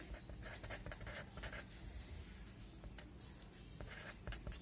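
Pen or pencil scratching steadily on paper while a math problem is written out, a continuous close scratching with short strokes and pauses under a constant background hiss.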